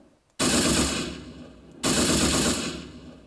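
Two loud, sharp-onset machine gun bursts play as a sound effect, each a dense rattle lasting over a second before cutting off, with a brief pause between them and a trace of resonance as each one decays.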